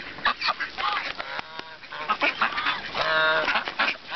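Ducks at a pond crowd in as people toss them bread, giving loud overlapping honks and quacks in busy bursts near the listener, with no talk over them.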